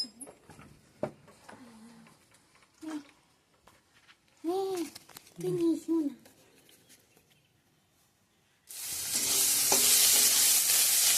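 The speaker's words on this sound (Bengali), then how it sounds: "এখানে ফোড়ন দিয়ে দিচ্ছি আমি তেজপাতা, শুকনো লঙ্কা, সাদা জিরে আর হচ্ছে আদা আর টমেটো।" A voice and a few quiet kitchen sounds come first, separated by silence. Then bay leaf, dried red chilli, cumin, ginger and tomato drop into hot oil, and a loud, close sizzle bursts out and continues to the end.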